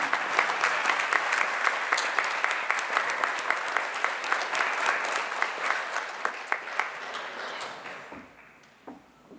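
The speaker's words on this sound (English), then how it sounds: "Round of applause, please." A school presentation-day audience applauds the newly announced Sports Council, sustained even clapping with distinct individual claps standing out, tapering off toward the end.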